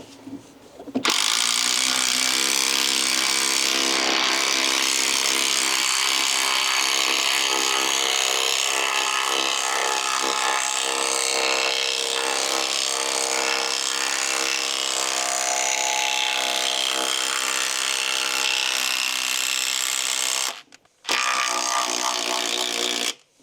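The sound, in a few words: Bosch 18V driver driving 12mm concrete screw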